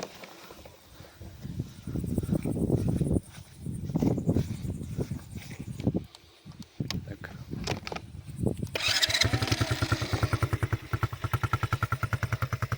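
A Tao Motors Forte 125cc quad bike is cranked and its engine catches after several seconds of talk and shuffling, then settles into a loud, steady, rapidly pulsing idle close by.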